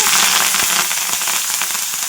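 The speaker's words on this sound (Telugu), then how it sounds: "ఇప్పుడు కరివేపాకు వేస్తున్నాను" Curry leaves sizzle and crackle as they hit hot oil in a pan of raw tamarind and green chilli pickle, a loud, dense, steady frying hiss with scattered pops, no voices.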